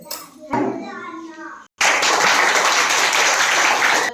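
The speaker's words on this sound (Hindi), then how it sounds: "ताली की आवाज ही बता रही थी कि सब लोग इस टॉपिक को बहुत ध्यान से सुने हो" Children clapping together in a primary school classroom, a loud burst of applause erupting after a short spoken phrase and continuing steadily to the end, with a voice talking briefly at the start.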